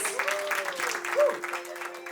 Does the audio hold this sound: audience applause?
yes